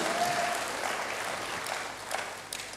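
A church congregation applauds for God during a sermon, a broad steady rattle of many hands clapping together that fills the room at moderate volume, with a few louder claps near the end.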